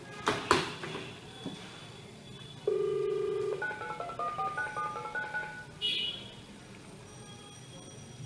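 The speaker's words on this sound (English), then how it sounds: "I will try to call to my phone and I will reject or answer the call saying that without touch my phone" A mobile phone rings with an incoming call while Bluetooth headphones (Bingo S1) are being tested; a few soft clicks come first, then a quiet melodic ringtone plays a rising run of tones for several seconds.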